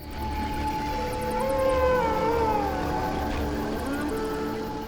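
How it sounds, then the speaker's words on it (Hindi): Several wolves howling in the wild, long wavering tones rising and falling and overlapping, moderately distant over a low rumbling background. "यहाँ बहुत सारे भेड़िया हैं।"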